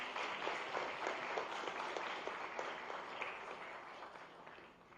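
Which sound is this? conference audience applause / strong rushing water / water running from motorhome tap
conference audience applause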